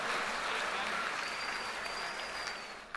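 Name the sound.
audience applause at comedy debate show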